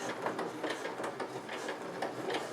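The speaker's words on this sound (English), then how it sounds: "really going to help your machine cope as it goes along, as is stitching slowly" Sewing machine slowly stitching denim, a steady close mechanical whirr with rapid rhythmic needle pulses running throughout, no voice.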